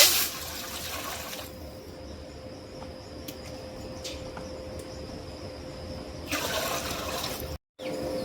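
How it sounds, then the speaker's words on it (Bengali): Water is poured into a cooking pot of fried spices and meat to start khichuri, a close, steady gushing pour heard in two bursts, with a quiet stretch between them. "পানি দিয়ে দিব"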